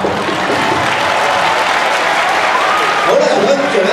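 Sustained audience applause at a 30th anniversary school dinner, dense clapping throughout with a voice speaking over it near the end.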